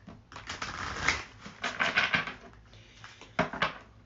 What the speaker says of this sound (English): Let's shuffle, shuffle,